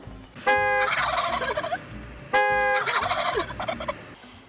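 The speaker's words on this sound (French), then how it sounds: "Un dindon aux États-Unis." Two loud wild turkey gobbles in the United States, each a rapid rattling burst of harmonic calls, separated by about two seconds, close and clear with no talking.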